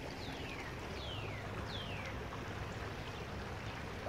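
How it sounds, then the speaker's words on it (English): A soft, steady rush of flowing creek water runs throughout, with a few faint bird chirps above it. "you can probably hear the creek in the background"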